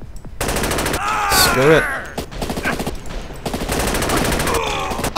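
Bursts of gunfire from the video game SAS Secure Tomorrow, rapid automatic volleys mixed with single shots, loud and close, with someone talking over parts of the firefight.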